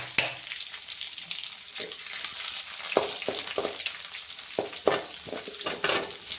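Chopped garlic sizzles steadily in a hot pan of oil while a spoon stirs it, with sharp scraping clicks against the pan at irregular intervals, close and fairly loud.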